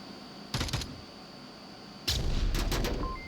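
A flashbang grenade detonates in the VR shooter Onward: a short sharp burst, then a second, louder and longer blast about a second and a half later, with a rumbling tail and no talk.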